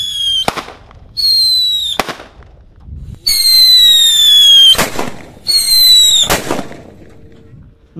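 Several loud mercon wajik firecrackers burst one after another, each preceded by a high whistling squeal, with short quiet gaps between the blasts.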